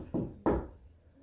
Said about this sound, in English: Whence is that knocking?